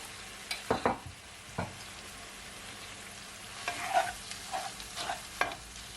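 Corned beef frying in a pot while being stirred, with soft sizzling under a series of scraping, clattering spoon strokes that come in bursts near the start and again toward the end, no voices.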